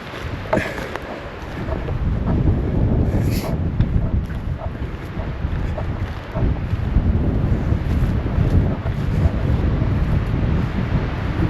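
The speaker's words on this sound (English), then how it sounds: "Still pretty windy." Strong wind buffets the microphone in continuous low gusts, a rough roar throughout with a few faint clicks and knocks.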